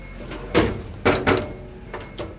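Drawers of a 20-gauge steel rolling tool chest slide on their runners in several short scraping, rumbling strokes, each ending in a soft thud, heard close up.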